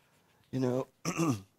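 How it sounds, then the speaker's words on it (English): A person clears their throat twice in quick succession, close to the microphone, with near silence around it. "I have to clear my throat once in a while."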